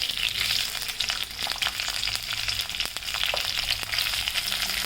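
Cumin and onion fry in oil with a loud, bright crackling sizzle and occasional stirring clatter, continuous and close up.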